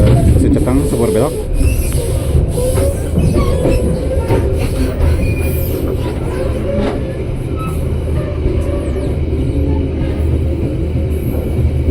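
A local Merak commuter train rolls into Catang station over a curving track, its wheels clattering and squealing steadily for the whole stretch, with passengers chatting in the background.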